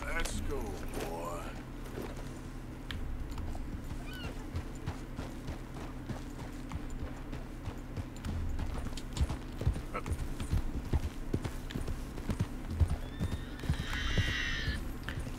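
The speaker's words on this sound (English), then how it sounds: "the horse is making sound" Red Dead Redemption 2 video game: hooves clip-clop steadily at close range with a horse's whinny near the start and another near the end, while a voice talks over it.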